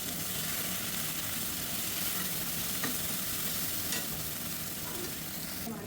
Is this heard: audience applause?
no